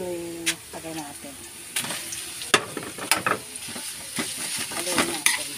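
Ground pork sizzles in a pan after being added, a steady frying hiss broken by several sharp utensil scrapes and knocks, with a faint background tone early on.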